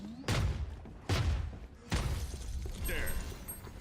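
Missiles fire in a video game as three loud, sharp blasts, each a sudden burst that rumbles and fades, spaced about a second apart, with other game sounds continuing underneath.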